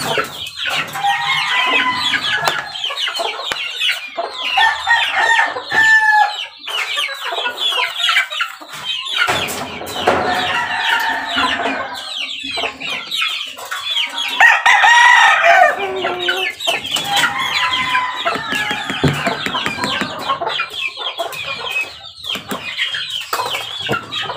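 Chicks cheep and cluck close by in a busy, continuous chorus, with hens clucking among them and a rooster crowing, all in a backyard setting while the chicks are carried down into the sun.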